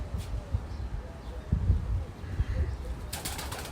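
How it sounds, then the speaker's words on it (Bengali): Pigeons shuffle and flutter nearby in California with soft thumps and low rustling, a brief burst of wing flapping near the end. "তারপরে কবুতর তো লাফালাফি করতেছে ভিতরে"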